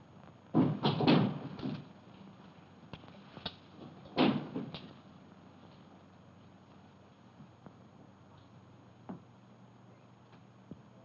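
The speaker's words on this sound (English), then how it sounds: "Would you please stop that door from banging?" An interior door bangs in a house, a cluster of heavy knocks followed by a second thud a few seconds later, then quieter rattles and ticks against a hushed room with no talking.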